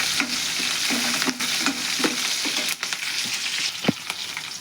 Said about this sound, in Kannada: ಇದು ಎಣ್ಣೆ ಒಳಗೆ ಫ್ರೈ ಮಾಡೋಣ್ರಿ.